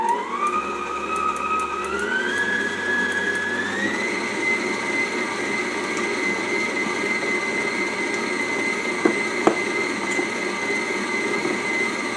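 An electric hand mixer beats egg yolks for a keto two-ingredient cake, a loud steady motor whine that steps up in pitch during the first few seconds, then holds, with a couple of brief knocks near the end.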